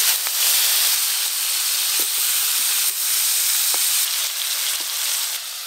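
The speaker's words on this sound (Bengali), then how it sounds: "তেল ভালো করে গরম হয়ে গেছে মাছগুলো ভাজবো এবার" Salted dried hilsa fish frying in hot oil gives a loud, dense, unbroken hiss with faint bubbling crackles, close up and with no voices throughout.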